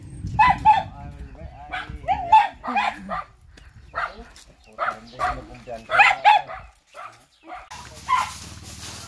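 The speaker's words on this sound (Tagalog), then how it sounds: "Marami silang aso." Several dogs bark and yip repeatedly at close range, overlapping with one another in bursts.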